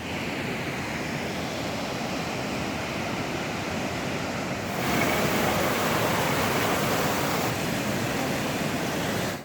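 A steady, loud roar of falling water from a waterfall in Kashmir fed by the outflow of Ratti Gali lake, a dense continuous rush that swells slightly louder midway, with no voices.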